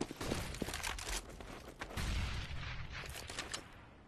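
Rapid bursts of gunfire from the video game Counter-Strike in a professional esports match, Titan versus Team Solomid, with repeated sharp shots and volleys at a steady moderate loudness.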